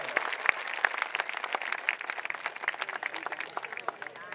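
A crowd at a Kranti Sena political rally claps in a dense, lively burst of applause, welcoming more than five hundred fighters back from jail, with a voice faintly heard under the clapping.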